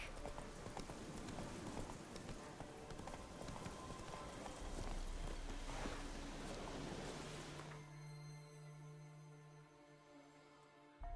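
A horse's hooves clip-clop at a brisk run in The Witcher 3, steady and fairly close, before the galloping stops and quieter ambient game sound takes over near the end.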